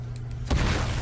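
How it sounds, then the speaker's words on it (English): A car explodes in the video game Uncharted 4 during multiplayer play, heard as a single sudden burst of noise halfway through that rings out under a quiet background. "Oh, that car exploded."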